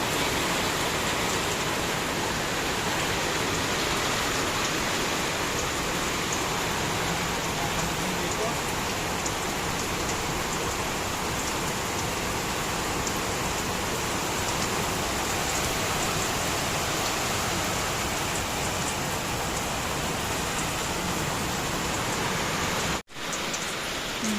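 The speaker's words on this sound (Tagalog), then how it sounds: "Malakas na yung ulan." Heavy typhoon rain under Signal No. 3 in San Pablo City, Laguna, pours in a dense, unbroken roar for the whole stretch, close and loud, cutting off abruptly near the end.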